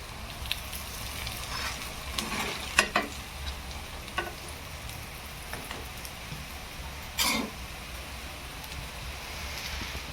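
Thalipeeth, a traditional Maharashtrian flatbread, roasts on a pan with a soft, steady sizzle. A few sharp clicks and scrapes break in now and then.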